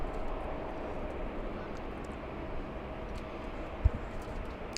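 A Philippine Airlines airliner at LAX, a faint steady jet roar from a distance with a brief thump near the end.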